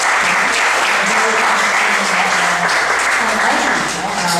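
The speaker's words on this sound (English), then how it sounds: "let us give our speaker a round of" Audience applause after a lecture at an open forum, a dense, steady clapping from a crowd that fills the room continuously and stays loud throughout.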